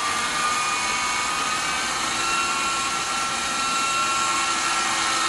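A 3D RC helicopter in forward flight, giving a constant high-pitched motor and rotor whine that stays steady and loud throughout, close by, with no talking.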